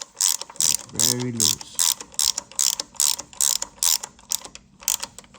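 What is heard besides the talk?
ratchet wrench turning a bolt on a 2JZ engine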